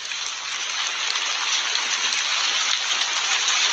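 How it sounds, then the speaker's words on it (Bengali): Heavy rain with big drops pours down steadily in a cartoon sound effect, a dense, even hiss of downpour that stays loud and unbroken with no voices. "বড় বড় ফোঁটায় মুষলধারে বৃষ্টি হচ্ছে।"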